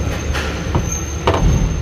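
A rough mechanical rattle and grinding from the DSG transmission and dual-mass flywheel of a 2014 Volkswagen Golf, with short louder bursts of metallic clatter over a steady low rumble.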